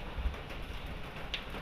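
Steady rain falls outdoors as a soft, even hiss with scattered drops, continuous and fairly faint, with no voices.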